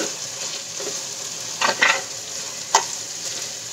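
Fish curry simmering in a pan in a Nellore-style fish stew, with a soft steady sizzle and a few brief scraping stirs near the middle, close and moderately loud, no talk.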